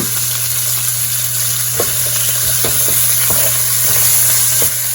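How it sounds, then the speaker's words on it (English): Chicken pieces browning in a hot pan produce a steady, loud, close sizzle with occasional small pops and crackles, heard alone with no voices. "I'm just gonna cook these up for a little bit until it's browned on both sides"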